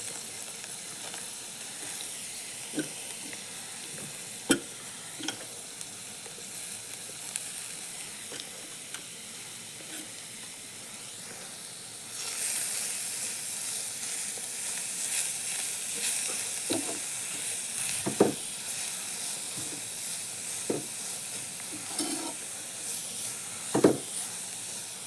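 Carrots sautéing in an oil-filled pan for carrot rice, giving a steady low sizzle with a few sharp pops and spits. The sizzle swells louder about halfway through and holds there, with no voices.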